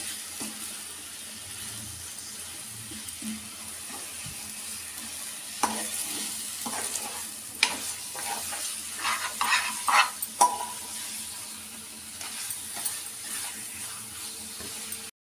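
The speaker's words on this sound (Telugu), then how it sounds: "దీన్ని కాసేపు ఇలా దీన్ని వేగనిస్తాను" Mutton pieces fry and sizzle in a pan for mutton sherva, a steady hiss with scattered scrapes and clinks from stirring, close and moderately quiet, no talking.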